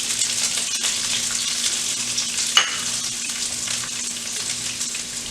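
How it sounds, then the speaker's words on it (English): Steady, hissing sizzle of onions frying in hot vegetable oil for a stir fry, close and continuous, with a faint clatter partway through. "we're just frying them real quick, getting them super hot"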